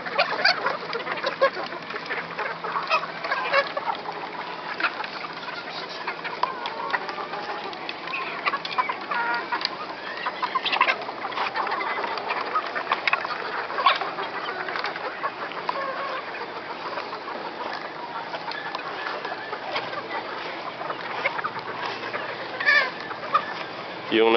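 Gamefowl on a game farm, including gray inbred birds, cluck and murmur continuously in a dense flock chorus, with faint human voices underneath.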